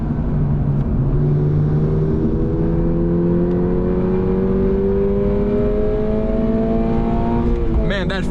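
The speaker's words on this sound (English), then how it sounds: "that fake engine noise" A 2024 Subaru BRZ tS revs through the gears with its artificial engine sound piped into the cabin, a steady rising drone heard from inside the car on a track, with a brief shift near the end.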